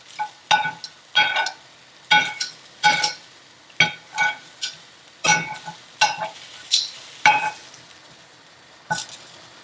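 Scallops sizzling in a frying pan as they are tossed, heard as about ten short, evenly spaced bursts of hiss and clatter, close and fairly loud, with no talk.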